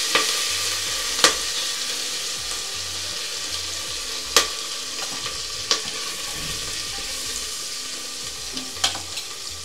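Curry leaves sizzling in hot oil for sorakaya pappu, bottle gourd dal, a continuous loud frying hiss with occasional sharp pops spaced several seconds apart.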